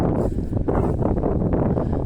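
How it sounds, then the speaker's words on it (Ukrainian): Strong, continuous wind buffets the microphone with a loud low rumble and gusty roar, no voices heard. "Вітер, звісно, дуже сильний."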